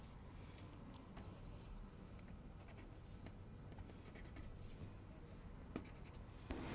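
Pencil or chalk drawing a pattern line on paper or fabric while marking princess seams for a dress, faint steady scratching strokes close up, with no talking.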